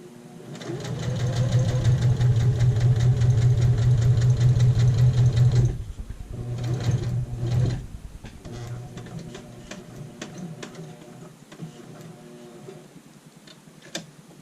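A sewing machine stitches an apron pocket in a long, loud, fast run, then pauses and resumes in shorter bursts with quieter mechanical ticking between them.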